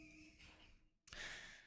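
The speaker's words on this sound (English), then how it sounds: "Reese is snoring" A sleeping dog named Reese snores with soft breathy snorts, a short pause, then a louder rasping exhale close by, with no talk.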